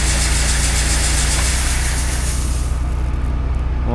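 A farm planter's engine runs loud and close to clear out the auger, a rough steady drone that eases slightly near the end with no voices.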